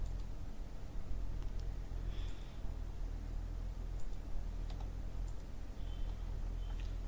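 Soft, scattered clicks of typing on a computer keyboard sound faintly over a steady background hiss in a quiet room.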